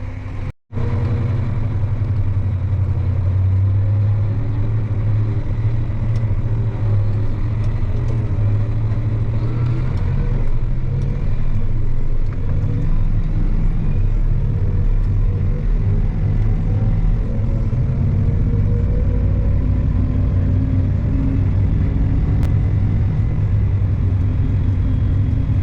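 A farm vehicle drives along a dusty road during a peanut harvest, its engine a steady, loud low rumble that holds at an even level throughout, with no talking.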